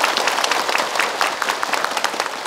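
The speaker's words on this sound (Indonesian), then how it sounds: "Tepuk tangan." A studio audience of women claps in a brisk, rhythmic round of applause for a television religious talk show, close and even throughout, with no voices on top.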